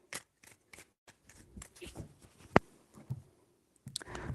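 Tarot cards shuffled by hand in a few quick, soft riffling bursts with light clicks and taps between them, close and quiet, no talking.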